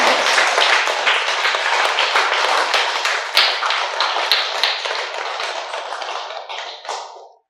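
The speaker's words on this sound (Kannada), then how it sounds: "ನಾವೆಲ್ಲರೂ ಒಂದು ಜೋರಾದ ಚಪ್ಪಾಳೆ ತಗೊಂಡು" A seated audience at a talk gives a loud, sustained round of clapping that goes on for several seconds and then dies away at the end.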